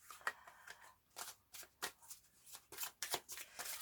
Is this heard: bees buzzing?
no